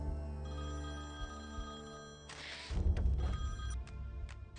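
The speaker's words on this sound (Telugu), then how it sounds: "ఫోన్ వైషు." A telephone rings with a steady electronic tone, followed by a swelling burst of dramatic film score that masks the ringing partway through.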